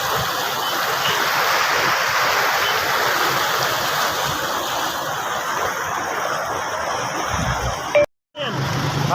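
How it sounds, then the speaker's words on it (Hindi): Fast-flowing floodwater rushing past after a dam break, a loud continuous roaring churn heard close by, with a brief dropout near the end and faint voices underneath. "पानी स्पीड देखो बड़ी स्पीड तेज है बड़ी स्पीड तेज है"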